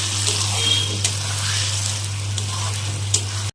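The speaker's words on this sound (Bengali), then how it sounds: "আলু একদম কষে গেছে, এখন দিয়ে দিব জল" Water pours into a pot of sautéed potatoes for aloo dum, a steady close rush and hiss over the sizzle with a constant low hum beneath, without talk.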